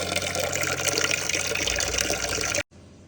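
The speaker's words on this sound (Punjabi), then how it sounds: "ਪਾਣੀ ਆ ਭਰ ਕੇ ਧਰ ਲਿਆ" Water pours into a vessel in a village home in Punjab, a steady close rushing stream that runs for about two and a half seconds and then stops abruptly, with no voices.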